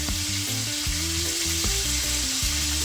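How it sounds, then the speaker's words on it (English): Jamaican barbecue fried chicken frying in oil gives a loud, steady sizzle that runs without a break, with low sustained tones underneath. "Mine is still frying, guys"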